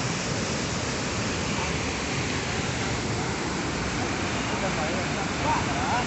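Overflowing river in flood rushing past its banks, a loud, steady broadband roar of churning water that continues unbroken throughout.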